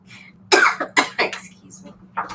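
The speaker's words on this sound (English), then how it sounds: "that cough came out of nowhere" A few sharp, sudden coughs burst out close by, a cluster of harsh bursts over a faint steady hum, followed by a softer throaty sound.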